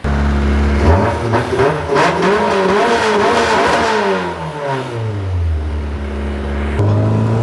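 A Toyota Starlet 5E-FE engine with individual throttle bodies running on methanol revs hard and loud, climbing and falling through several throttle blips before settling back to a rough idle.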